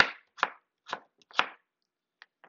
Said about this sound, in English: I just cut them into slices like that